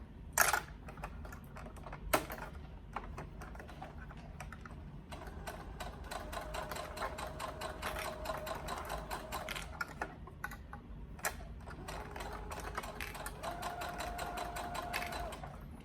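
A sewing machine stitches a 1/4 inch seam in quick, faint, steady bursts of rapid ticking, pausing briefly between runs, with a few louder clicks and no voices.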